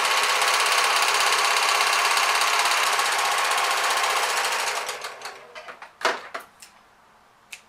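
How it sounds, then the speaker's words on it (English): A serger runs continuously for about five seconds finishing the side seam of a knit dress, then stops; a few brief clicks and handling knocks follow in the quiet. "Finish off the side seam with the serger."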